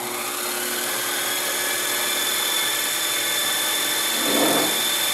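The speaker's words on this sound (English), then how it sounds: "I'm going to start them with a center drill" A steady, high-pitched mechanical whine of a center drill spinning on a milling machine, continuous and fairly loud, with a brief lower grinding swell near the end.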